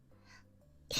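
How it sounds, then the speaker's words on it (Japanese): A single sharp sneeze bursts out near the end, loud and close, after a stretch of quiet room tone with faint murmur. "ごめんね、くしゃみ出ちゃった。"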